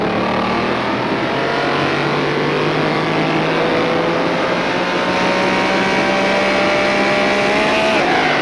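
A 1957 Ferrari Testa Rossa engine in the rFactor 2 racing game drones loud and steady on a straight, its pitch climbing gradually as the car gathers speed, with no talk over it.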